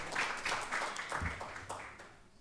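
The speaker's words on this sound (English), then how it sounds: "please round of applause to the panel and to the moderator" Symposium audience applauding a panel and moderator, a moderate scatter of clapping from a smallish crowd, uneven and somewhat distant, tapering off toward the end.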